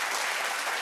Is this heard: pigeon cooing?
no